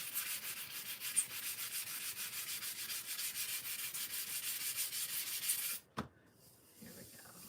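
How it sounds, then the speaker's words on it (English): A hand scuffs and sands a craft surface with quick, steady back-and-forth rubbing strokes, close and fairly quiet, stopping abruptly near the end, followed by a brief knock and soft handling noise. "just scuffing up that surface."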